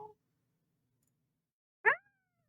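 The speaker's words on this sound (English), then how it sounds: "Look at this cat." A single short cat meow sounds once, fairly faint, after a brief vocal fragment at the start, with silence around it.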